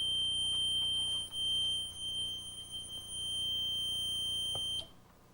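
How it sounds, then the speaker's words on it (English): A smoke detector sounds during an alarm system test, a steady high-pitched electronic tone holding for about five seconds before cutting off, with a low background hum underneath. "Okay, now the smoke detector."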